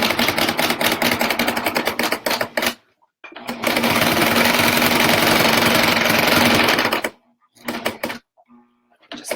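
A home sewing machine back stitches through thick layers of a burp cloth in loud, rapid mechanical chattering bursts. It stops briefly between runs and then resumes in short pulses.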